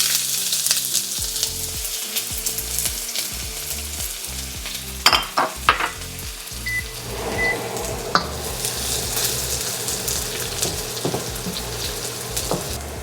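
Shallots sauté in a hot pan for picadillo, sizzling and crackling steadily with stirring scrapes and a few sharp clanks of the utensil, joined midway by a denser, louder hiss.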